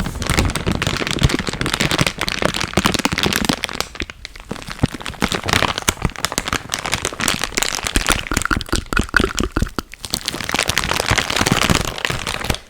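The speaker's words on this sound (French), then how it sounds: "Un petit peu de bruit de plastique." Close, continuous crinkling and crackling of plastic packaging handled while unboxing a PC, busy and irregular, with brief pauses, no talking.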